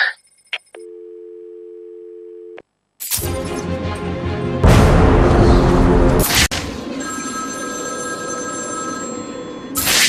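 A telephone rings in Batman Arkham City: a steady electronic ring tone repeats alone for a few seconds, then loud game music and effects swell and take over.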